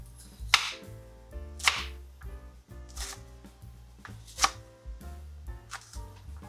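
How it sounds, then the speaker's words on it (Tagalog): Onions are chopped with a knife on a cutting board, sharp close knife strikes landing in an irregular rhythm of about six distinct chops over several seconds, with lighter taps between them. "So, first, we're gonna chop our sibuyas."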